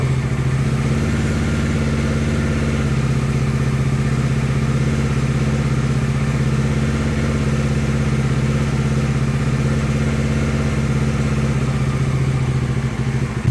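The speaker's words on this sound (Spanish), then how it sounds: "van a escuchar como la moto se acelera" A motorcycle engine runs steadily and loudly throughout as it accelerates, with a constant low rumble and little sign of strong revving.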